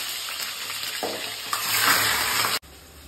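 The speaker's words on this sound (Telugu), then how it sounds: "ఓకే, ఆయిల్ వేడెక్కింది. వేడెక్కిన తర్వాత మనం ముందుగా కడిగి పెట్టుకున్న చికెన్ అందులో వేయాలి" Chicken dropped into hot oil in a kadai bursts into a loud, close sizzle that swells and crackles for a couple of seconds before cutting off abruptly, no talk.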